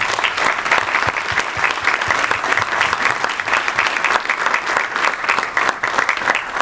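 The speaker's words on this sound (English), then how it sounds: "A round of applause for the mayor, please." A room at a startup hub breaks into a long, lively round of applause for the visiting mayor, close and sustained clapping with crisp individual hand strikes throughout.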